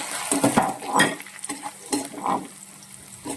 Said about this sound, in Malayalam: ഈ ഉള്ളി മൂത്ത് വരുന്ന സമയത്ത് നമുക്കിതിലേക്ക് ഈ നമ്മൾ എടുത്ത് വെച്ചിരിക്കുന്ന മുളകും കൂടി ചേർക്കാം